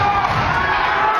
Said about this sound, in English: Eastmont fans and his fellow wrestlers try to cheer on Randy Binner here.